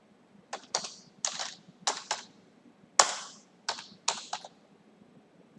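Keystrokes on a computer keyboard, about eight separate sharp clicks spaced irregularly over several seconds, close and fairly loud with quiet gaps between them.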